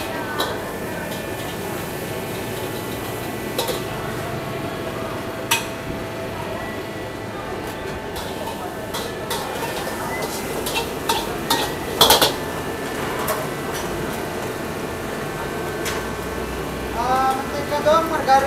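Utensils clinking and scraping in a pan while mixing ingredients with margarine: steady metallic taps and scrapes under background chatter, with a few louder clanks.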